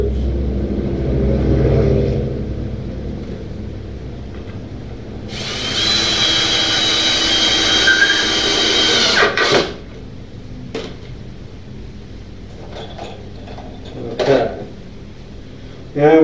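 A power drill drives 2.5 inch screws into a wooden spool for a lawn cart: a loud, sustained whirring burst lasting several seconds, with quieter intermittent tool noise and shuffling before and after.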